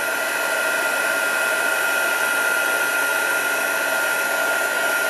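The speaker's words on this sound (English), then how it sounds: "So heat up your heat gun and blast." A heat gun blasting hot air over a craft piece laid on a work surface, giving a loud, steady whooshing roar with a constant whine that holds unchanged throughout, with no talking.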